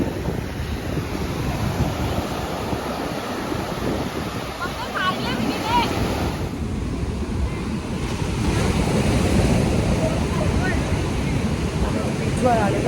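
Rough sea surf breaks continuously on a Goa beach, a broad roaring wash mixed with heavy wind buffeting against the microphone, building slightly louder in the second half.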